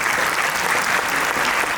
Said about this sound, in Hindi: तो हम ज़ुबैदा मुस्तफ़ा के लिए एक दफ़ा तालियाँ बजाएं